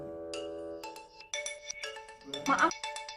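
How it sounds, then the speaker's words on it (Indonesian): A mobile phone ringtone plays as a melodic electronic tune with bright, stepped tones, loud and close, carrying on for several seconds in an indoor scene. "Saya mau angkat telepon dulu."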